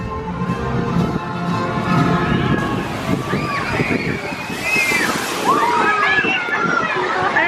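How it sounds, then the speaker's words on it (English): Water splashes and sloshes loudly as a Shoot the Chute boat plunges into the pool at Canobie Lake Park, a small-town amusement park, with surf-like rushing, crowd voices and screams mixed throughout. "Let's see what kind of splash we get here."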